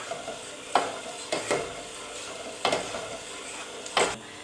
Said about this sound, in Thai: คนไปเรื่อย ๆคนน้ำตาลกับวุ้นให้เข้ากันนะครับ